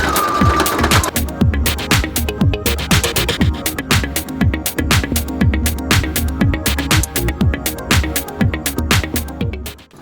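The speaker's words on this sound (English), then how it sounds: "I'm going to go forward first, then I'm going to back stitch, and then I'm going to continue to sew." A sewing machine stitches the lining into a winter coat, its rapid rhythmic needle clatter loud and steady throughout, going forward, back-stitching, then sewing on.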